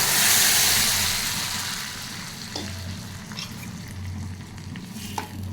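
Tamarind-leaf dal from Rayalaseema tipped into a browned tempering sends up a loud burst of sizzling that settles into a steady frying hiss, with faint stirring scrapes.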